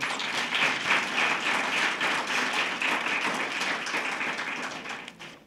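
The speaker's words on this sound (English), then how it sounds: "Give yourselves a round of applause." A round of applause from the audience at a Tourism Blue Flag graduation ceremony in Port Elizabeth, a steady, moderately distant wash of many hands clapping that fades at the end.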